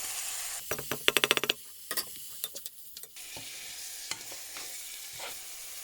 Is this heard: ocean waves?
no